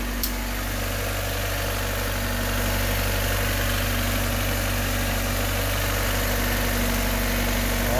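Honda Civic or CRX engine idling smoothly and steadily after a coil-on-plug conversion, a close, even hum with no talk.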